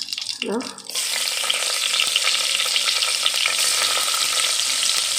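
Finely chopped onion drops into two spoons of hot oil for a Goan fish curry and bursts into a loud, steady sizzle after a brief clatter, then keeps frying evenly close by with no talking.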